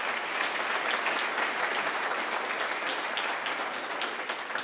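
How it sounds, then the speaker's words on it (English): Audience applause at a teacher awards ceremony, a sustained dense burst of many hands clapping in a hall, steady and fairly loud throughout. "Please give them a round of applause."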